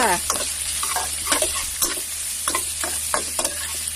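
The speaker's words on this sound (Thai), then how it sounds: "ก็เอา รากผักชีพริกไทยกระเทียมหรือเรียกว่าสามเกลือใส่ลงไปเลย ผัดให้หอมค่ะ" Pork belly stir-frying with coriander root, pepper and garlic in a hot pan, a steady sizzle broken by repeated scraping stirs, close and alone without voices.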